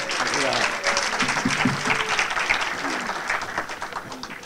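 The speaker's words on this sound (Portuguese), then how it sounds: "Com os aplausos de todos," An audience at the opening ceremony of a Northeastern frevo competition applauds a singer with lively, fairly close clapping that swells and fades, and scattered voices mix in.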